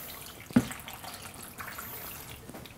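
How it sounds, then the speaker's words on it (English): Water is poured into a blender holding banana and frozen fruit for a green smoothie. A brief, soft splash is followed by a light, close trickle. "A little bit of water."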